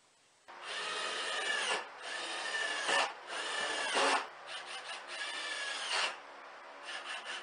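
Power tool trimming square wooden dowels for a DIY cooker, a close rasping, grinding whir in several bursts of one to two seconds with brief pauses between cuts and no talking.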